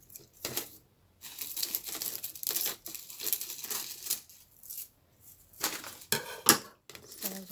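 Someone cuts off part of a plastic covering stretched over a container, giving close, quiet bursts of crinkling and snipping separated by short silences.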